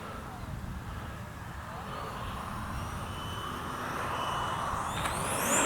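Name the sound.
Freewing 64mm F-22 RC jet outrunner motor flying in to land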